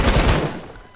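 A weak grey-rarity gun in the Fortnite video game fires a quick, loud burst of rapid shots that fades out within a second, with no talking over it.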